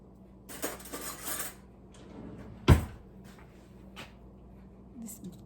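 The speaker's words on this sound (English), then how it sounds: "Let me try to cut it with a spoon" A spoon scrapes and clinks against a plate while cutting into a hot, crunchy homemade pork sausage ball with cheese, with scattered light utensil taps and one sharper knock in the middle.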